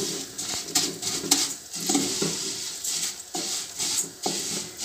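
Vermicelli being fried and stirred in hot vanaspati ghee in a pan, with a soft sizzle broken up by repeated scraping and clinking of a spoon against the pot, close and fairly loud.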